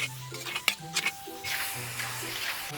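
Onion, garlic and ground meat frying in a pan for pancit Malabon, a soft crackling sizzle with a few clinks and scrapes of stirring, and a voice talking over it near the start.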